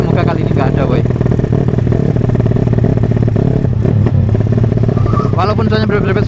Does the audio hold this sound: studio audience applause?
no